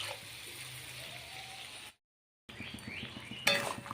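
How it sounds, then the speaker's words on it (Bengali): Water pours into a cooking pan with a steady, close rushing gush. It cuts out for a moment, then resumes with a light clink near the end. "এবার জল দিয়ে দিচ্ছি।"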